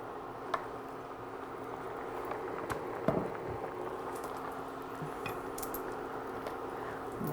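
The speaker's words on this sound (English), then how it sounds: "let's stir this up and see how we're doing" Soup in a pot being stirred, a spoon clinking and scraping now and then over a continuous bubbling simmer, moderately close.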